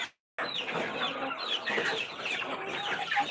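A crowd of backyard chickens clucks noisily and continuously at evening feeding time, a dense, busy chorus of overlapping calls close by.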